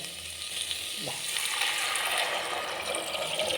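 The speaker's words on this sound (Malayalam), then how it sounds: "ഇനി നമുക്ക് ഇത് വേവാൻ ആവശ്യത്തിൻ്റെ വെള്ളം കൂടി ചേർത്ത് കൊടുക്കാം" Water is poured into a hot pan of green peas curry to cook it, bringing a sizzling, bubbling rush that swells and stays steady close by.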